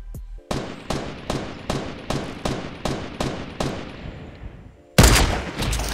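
Rifle gunfire in the video game Fortnite: about ten sharp shots in a steady rhythm, each with a short decaying tail, followed by a louder, heavier blast.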